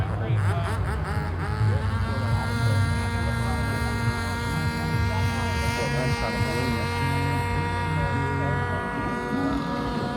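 A steady high-pitched belt-drive electric motor whine with strong harmonic tones runs continuously and loud from an Extreme Flight MXS 85-inch 12s large-scale 3D RC plane buzzing overhead.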